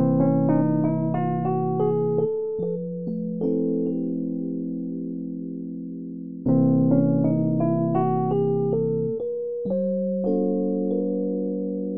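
Synthesized tones step through a half-tone whole-tone scale tuned in 31-tone equal temperament, slightly wobbly intervals played as two ascending-descending runs of clean sustained notes, alone and clear with a short gap between phrases.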